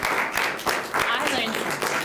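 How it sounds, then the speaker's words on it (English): An audience claps for the panel speakers at a Brunswick climate action meeting, a brief burst of steady applause that fills the room throughout. "I think they all deserve a round of applause"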